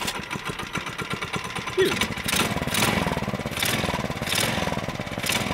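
A Tecumseh small engine fitted with a Mikuni carburetor runs with a fast, steady pulsing chug that grows louder partway through. A person briefly exclaims over the engine noise.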